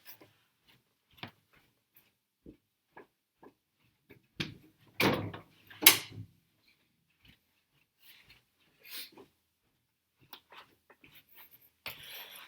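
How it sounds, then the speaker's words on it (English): A kitchen door swings shut indoors, faint creaks and scattered ticks building to a couple of sharp thumps as it closes, followed by quiet clicks and light rustling. "I just need to close the door to the kitchen."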